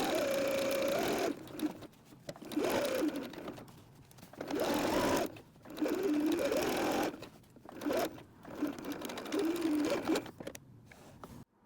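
A sewing machine stitches a quarter-inch seam on a fabric windsock, running in several close, steady bursts separated by short pauses, with no talking.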